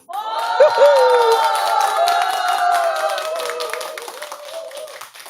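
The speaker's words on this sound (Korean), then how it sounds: "박수 주세요" A studio audience of seniors at a singing class loudly cheers and claps to welcome a trot singer, with sustained, close applause and excited voices calling out together, slowly easing off toward the end.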